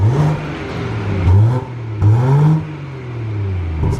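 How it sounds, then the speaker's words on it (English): A BMW F31 340i Touring in comfort mode revs loudly nearby, three separate throttle blips rising and falling over a deep idle, heard with no talk. "Give us a rev and comfort, Mike."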